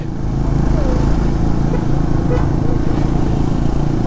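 A Suzuki Gixxer 250 motorcycle on the road toward Sajek rumbles steadily with a loud, close engine drone and wind buffeting throughout, without any break.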